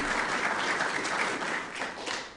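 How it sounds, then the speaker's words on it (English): Audience applause fills a YMCA construction kick-off event, a dense steady wash of many hands clapping at once, loud and continuous throughout with no voices rising above it. "A round of applause."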